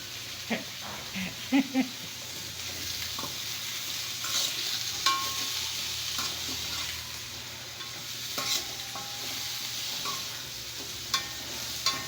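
Food sautés in a pan, a steady close sizzle with scattered clinks and scrapes of stirring, while people talk intermittently.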